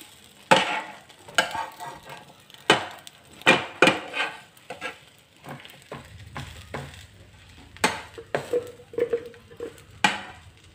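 A cheese bread omelette fries in a pan after being flipped, with soft sizzling under a series of sharp spatula scrapes and taps against the pan, then a low steady hum toward the end.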